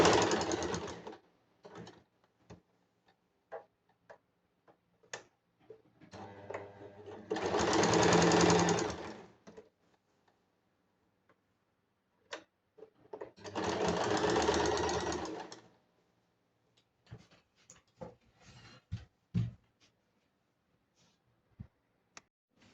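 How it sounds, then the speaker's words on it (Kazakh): A sewing machine stitches a quilt strip in a patchwork project, running in two loud sustained bursts of a few seconds each, separated by quiet stretches of scattered clicks and fabric handling. "Енді екінші қатардағы лентаны тігіп болдық."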